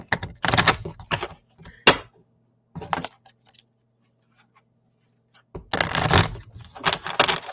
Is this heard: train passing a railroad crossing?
no